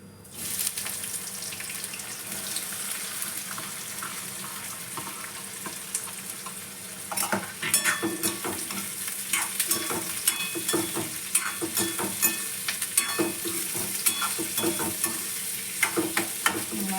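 Onions sizzle steadily in hot oil as a tempering for dal, a constant crackling hiss with occasional stirring clatter growing busier partway through; no one speaks.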